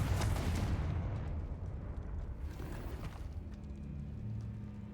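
The Confringo blasting spell explodes in the video game Hogwarts Legacy, a loud burst at the start that fades into a rumbling, crackling tail within a catacomb.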